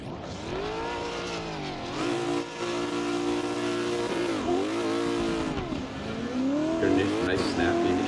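A drift car at a drifting competition revs hard, its engine note rising and falling with sharp throttle swings, and tires squeal through the slides. The sound runs loud and continuous and is close throughout, with a voice talking over it.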